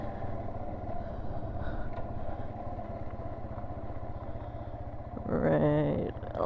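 A Yamaha TW200 motorcycle being ridden, its engine a steady low throbbing drone throughout with wind noise, rising briefly louder near the end.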